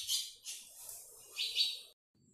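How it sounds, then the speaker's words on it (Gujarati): Sparrows chirp beside a home kitchen where wheat-flour sheera is being cooked, a run of bright, high twittering bursts in quick clusters, fairly close and clear, with no voices over them before a brief quiet. "વિડીયો દરમિયાન જે ચકલીઓનો અવાજ આવતો હતો"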